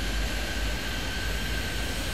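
Steady, continuous jet engine roar from an airliner taking off in the Airport Madness 3D air traffic control game at Castlegar airport, loud and unbroken with no talk over it.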